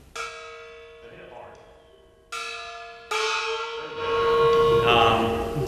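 An opera gong struck during a university percussion ensemble fall concert rings out in three separate hits, each with a shimmering, bell-like tone and long decay, the last strike loudest and swelling with bright wash.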